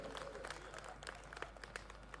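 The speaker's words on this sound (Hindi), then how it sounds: "ताली बड़ी फनी बज रही है" A comedy show audience claps sparsely and unevenly: scattered, thin individual claps rather than full applause, faint and spread across the moment.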